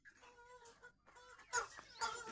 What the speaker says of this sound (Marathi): तर बघा कोंबड्या